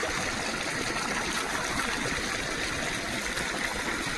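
Steady trickling and gurgling farm water runs continuously at close range, with no voices.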